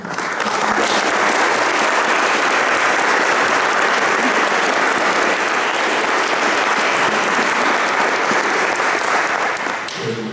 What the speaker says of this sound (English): We need to enjoy the applause first